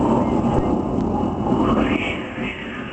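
A performer imitates wind with his voice before a live audience, a sustained breathy rushing roar that swells and fades slightly, loud and close, with no other sounds over it.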